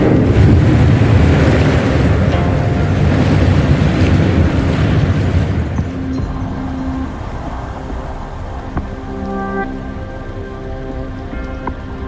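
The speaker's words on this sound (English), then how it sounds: "The water level just dropped again." Rushing water drains away as the water level drops in the video game Wuthering Waves, a loud, steady wash that eases after about six seconds into a quieter flow with faint tonal game sounds.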